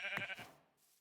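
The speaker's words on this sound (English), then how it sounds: "Okay, there's 3 white sheep." A single faint sheep bleat from Minecraft, short and nasal, fading out within about half a second.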